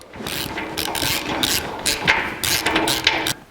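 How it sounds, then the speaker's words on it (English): A ratchet wrench tightens a bolt on a spring mount of a 1982 Jeep CJ7 during an Old Man Emu spring install, with rapid metallic clicking in close, loud bursts and no talk. "And now we can tighten it up."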